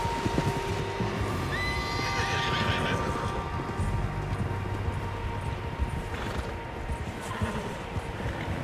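Horses in Red Dead Redemption 2 neigh and whinny repeatedly over steady clip-clopping hooves, several animals close by in a continuous outdoor game scene with no talking.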